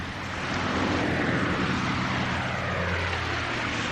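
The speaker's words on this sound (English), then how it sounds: "That's an aeroplane." An aeroplane passes overhead with a steady, loud propeller-engine drone that swells slightly and holds for the full few seconds.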